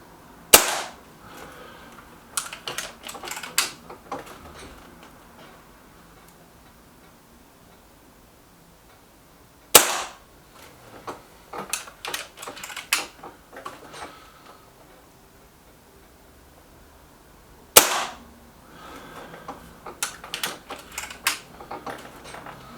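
A Beeman 1357 air pistol fires pellets three times, each shot a sharp close crack spaced several seconds apart, followed by bursts of clicking and mechanical handling noise.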